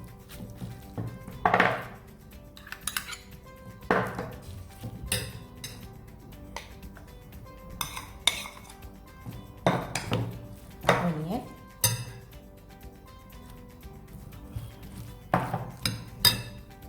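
Grated potato batter with chopped vegetables is mixed in a bowl, giving intermittent clinks, knocks and scrapes of a utensil against the bowl, spaced irregularly and fairly close.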